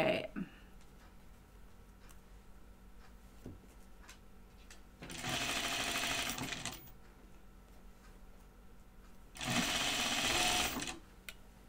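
A sewing machine stitches a half-inch seam on a garment: two loud, close bursts of rapid mechanical whirring, each about two seconds long, separated by quiet handling noises.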